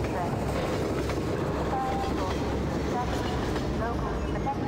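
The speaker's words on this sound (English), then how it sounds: "Oh, is the train gonna stop?" A train rolls past in Half-Life 2, a steady loud rumbling roar with faint rhythmic clatter holding for several seconds, with a voice talking faintly over it.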